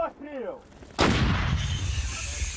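A British-supplied artillery gun fires at the front near Bakhmut in Ukraine, one loud, heavy boom that hits suddenly and then rolls on as a long, dense rumble, after a brief moment of voices.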